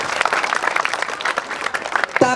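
An audience at a Balinese topeng performance in a temple courtyard claps in a brief, scattered burst of applause, close and lively, and a voice cuts in right at the end.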